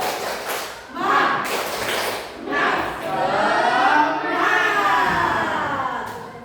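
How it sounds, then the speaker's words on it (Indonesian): A group claps in rhythm while voices shout and chant along, loud and close. "Tepuk lagi. Tepuk semangat."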